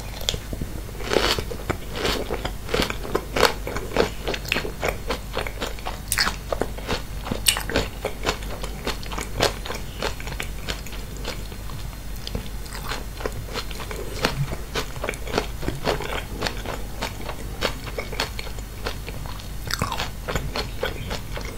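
Miang kham, a Thai herb snack wrapped in betel leaf with fresh chili, is bitten and chewed right at the microphone, giving a steady run of crisp, close crunches and wet chewing with no talking.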